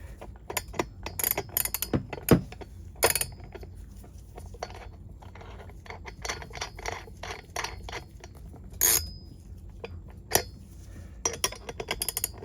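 Metal clinks, rubs and scrapes from a 24mm wrench handled on a Stihl 044 Magnum chainsaw during a flywheel removal rebuild, scattered sharp taps and rasps at close range, no talking.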